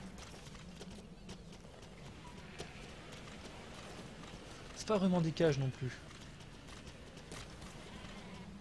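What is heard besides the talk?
sheep in video game Metal Gear Solid V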